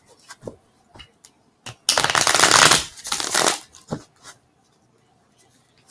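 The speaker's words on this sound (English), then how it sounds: "I'm going to give it a final shuffle." Tarot cards being shuffled close up: a few soft taps and flicks, then a dense riffling burst lasting about two seconds, followed by lighter handling sounds.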